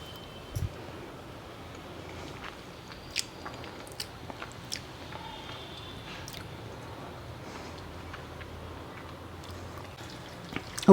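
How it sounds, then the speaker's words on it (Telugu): Chewing and biting on homemade drumstick pickle mixed with rice, tamarind and oil, with soft wet squishing mouth sounds and a few sharper crunches over a quiet kitchen background, nobody speaking. "నేను టేస్ట్ చూస్తున్నా."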